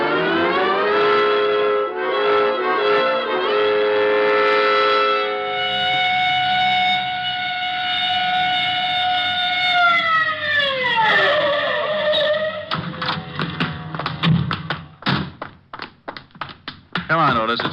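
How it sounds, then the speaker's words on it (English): A police car siren wails, rises and holds a steady pitch, then winds down and fades, followed by clattering and taps with voices in the background. "All right, Otis, you can use the siren."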